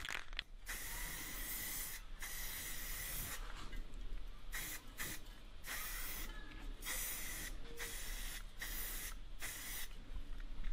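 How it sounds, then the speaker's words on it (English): Rattle-can self-etching primer hisses onto a metal bed frame in repeated bursts, each loud steady spray stopping briefly before the next, with no talk. "I then used some Rattle Can self-etching primer and a couple coats of Rust-Oleum 2X top coat in semi-gloss black"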